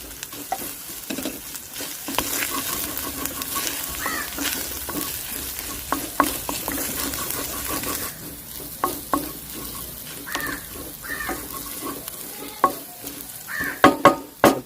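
Bay leaf and cinnamon fry in ginger garlic paste for a tomato roast, giving a steady sizzle broken by scraping stirs and a few sharp clinks of a utensil near the end.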